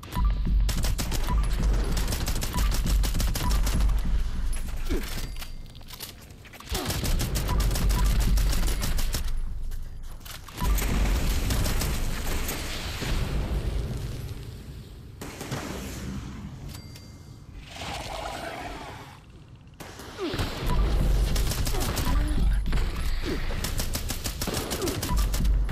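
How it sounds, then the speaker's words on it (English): Fireworks launched in the Fallout video game: loud bursts of rapid, crackling explosions in several long volleys separated by brief pauses, with a voice speaking faintly underneath. "I will launch the firework."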